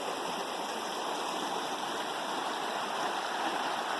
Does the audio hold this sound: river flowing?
yes